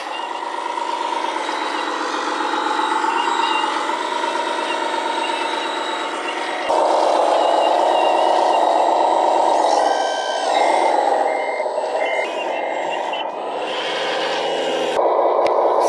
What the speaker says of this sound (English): This time we'll use the wheel loader.